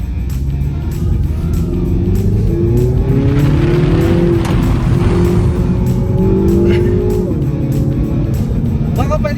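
A 2021 Mini Cooper S five-door hatchback driven hard, its engine droning and rising steadily throughout under a constant loud road rumble, while passengers talk and exclaim over it.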